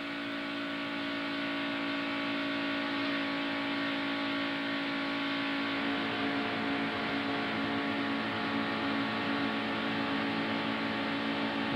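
NASCAR Winston Cup stock cars at the 1992 Pepsi 400, heard from inside Mark Martin's car down the back straightaway: a loud, steady high-revving engine drone with road roar, no talking.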